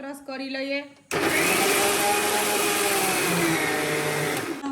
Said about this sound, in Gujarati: હવે આપણે આને મિક્સરમાં ક્રશ કરી લઈએ